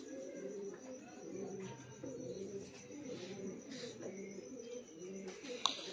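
Pigeons coo in soft, repeated rolling phrases at a pigeon breeder's loft, with faint chirps and background noise around them and a brief sharp click near the end.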